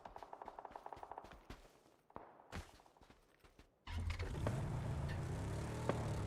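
Machine gun fire in PUBG, a 900 RPM MG: a quick run of evenly spaced shots at the start, then a few scattered louder reports, followed by a sustained rumbling noise bed like a vehicle engine.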